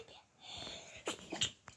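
A person sneezes during a Halloween-themed Roblox Brookhaven RP play session: a brief, sharp burst near the end over faint breathy background, followed by a smaller second burst.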